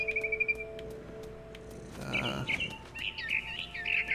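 Small birds chirp and tweet in bright, rapid bursts, a short trill at first and then clustered calls near the end, over a quiet ambient bed in the video game What Remains of Edith Finch.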